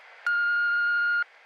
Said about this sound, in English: So leave a message after the beep.